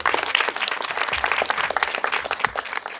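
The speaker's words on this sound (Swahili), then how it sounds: "tumpigie CEO makofi" Dense, continuous applause from an audience at a special needs classroom handover ceremony at Dagoretti Primary School, with many hands clapping steadily and fairly close throughout.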